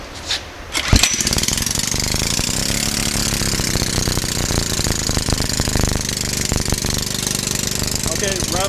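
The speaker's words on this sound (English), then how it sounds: "This is just a 5 horsepower John Deere engine." A small 5 horsepower John Deere engine starts with a sharp pop and then runs steadily, a loud rapid chugging rattle that continues throughout.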